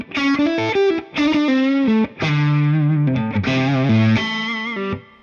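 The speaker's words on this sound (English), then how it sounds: "I'm going to go to more of a higher gain sound on the amp" A heavily distorted electric guitar plays sustained chords and riffs through a high-gain amp, with an Ibanez NTS Nu Tubescreamer pedal, thick and saturated, alone and loud.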